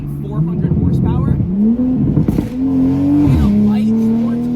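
A Toyota A90 Supra with a Tomei exhaust and catless downpipe, untuned, drones loudly up close, its engine note climbing in stepped pulls through several gears while someone talks over it.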